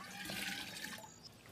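Water splashes and pours at a stone-lined pool as jugs are filled, a soft steady liquid wash with small trickles and drips.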